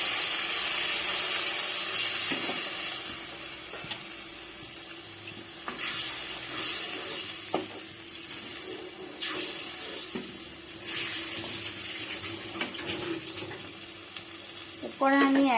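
A little water goes into a pan of fried, oily spice paste for a pointed gourd and poppy seed dish, setting off bursts of loud hissing over a continuous sizzle, with clattering at the end.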